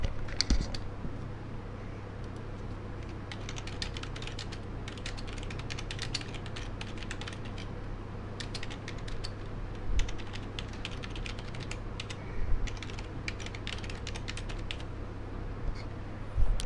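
Rapid clicking keystrokes on a computer keyboard as a message is typed, a steady close tapping in short irregular bursts over a low constant hum.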